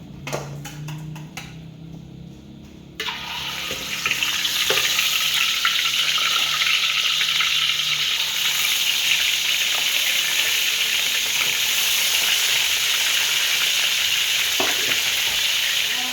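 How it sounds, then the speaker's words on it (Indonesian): Fish is dropped into hot cooking oil, which bursts into a loud, steady sizzle after a few quieter seconds of kitchen clatter and keeps crackling close up with occasional stirring sounds. "Kayaknya minyak kita ini udah cukup panas ya. Kita goreng ikannya dulu yuk."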